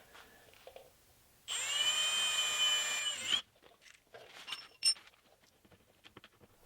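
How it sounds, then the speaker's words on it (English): A power drill whirs steadily for about two seconds, close and loud, drilling a hole for vehicle fender flare hardware, then stops, followed by light clicks and handling noises. "we'll drill a lower hole"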